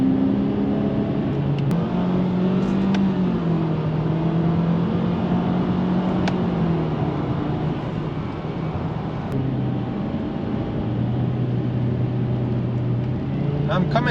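A 2014 Honda Accord EX-L coupe pulls hard in sport mode with paddle shifters, its engine note rising steadily through the gears as a continuous, loud drone heard from inside the cabin.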